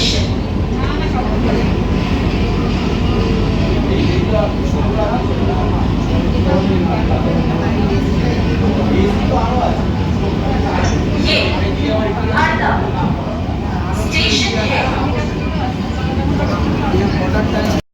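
Sealdah-Krishnanagar City AC local train running near Khardah, a steady loud rumble and rattle of the carriage throughout, with passenger chatter and brief higher clatters over it.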